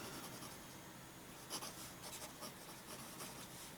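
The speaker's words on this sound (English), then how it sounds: "it actually writes fairly smooth" Yafa Scenario fountain pen with a medium Lamy-style nib writing across paper, a faint, steady scratch with a few slightly louder strokes, close and alone.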